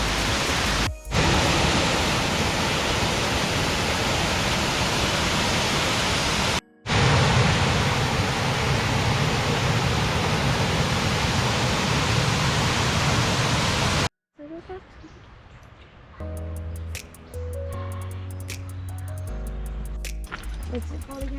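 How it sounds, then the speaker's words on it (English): A loud, steady roar of rushing water from Blue Hole Falls, close by, fills most of the stretch, then cuts out and gives way to quieter music. "So this right here is the first waterfall that we get to see."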